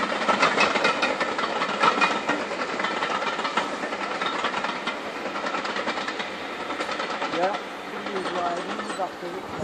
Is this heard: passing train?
yes